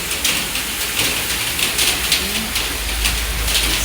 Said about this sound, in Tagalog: It's raining, Kuwait.